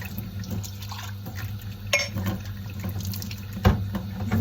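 Water poured and splashing in short irregular bursts, close and moderately loud over a low background hum, with a few sharper splashes.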